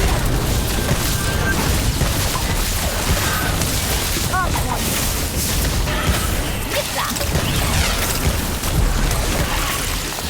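Bombarda and Incendio spell blasts in Harry Potter: Magic Awakened, a video game: a loud, unbroken wash of booming, crackling magic with whooshing surges and a few brief chiming tones.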